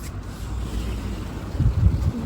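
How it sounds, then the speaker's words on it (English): Low rumbling wash of sea water and waves on the coast at Diu, Gujarat, surging slightly toward the end, with wind buffeting the microphone. "I just hear the sound of the water"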